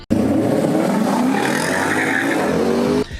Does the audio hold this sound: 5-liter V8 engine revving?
yes